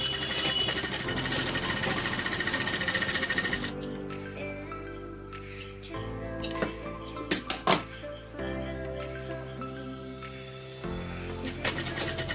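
A sewing machine runs in a fast, steady buzzing clatter while stitching the edges of a pillow cover, then stops, leaving quieter handling clicks and faint room sounds.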